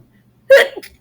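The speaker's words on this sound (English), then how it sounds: "Sorry, I have to sneeze." A single sharp sneeze bursts out close to the microphone after a quiet pause, followed by a short breathy tail.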